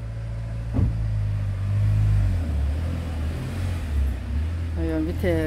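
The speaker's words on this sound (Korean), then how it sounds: "지금 출근 시간인가 차들이 많이 지나가네요." Rush-hour cars passing on a road outside a home, a steady low engine rumble with swells as vehicles go by, while a voice talks briefly in the foreground.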